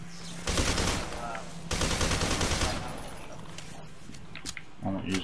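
Shotgun blasts in the shooter game F.E.A.R. 2: two long, loud bursts of gunfire follow one another, then the noise tails off into quieter game ambience with brief clatter near the end.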